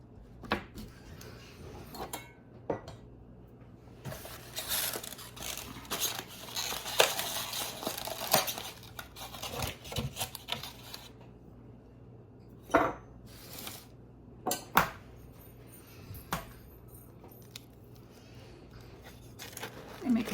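Eggs are cracked one at a time into a bowl for muffin batter, giving a handful of sharp, isolated taps and clinks spread over a quiet kitchen background, close and moderately loud.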